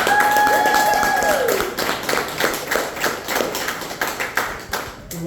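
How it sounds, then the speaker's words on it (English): Audience applause fills a room at an open house for a community grocery co-op, a broad burst of clapping with scattered taps and thuds that thins out over about five seconds. "I think they need a round of applause."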